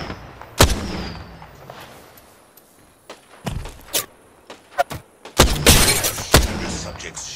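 Gunfire in a battle royale shooter game: several sharp, loud shots ring out in separate bursts, including a dense cluster near the end, with faint background between them.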